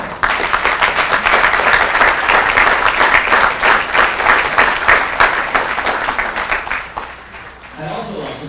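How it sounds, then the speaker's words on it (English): Audience applause at a Marine Corps Hotel Company graduation for recruits' family members, a dense, steady clapping that holds strong for about seven seconds and then tapers off quickly. "let's give these family members a round of applause."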